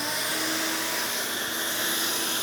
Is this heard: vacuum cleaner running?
yes